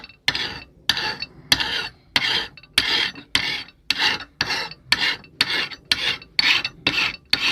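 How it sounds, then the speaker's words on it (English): A hand file sharpens a lawn mower blade in about a dozen steady, rasping strokes, each a loud, close scrape with a short pause between, in an even rhythm and alone. "I have to file this side again."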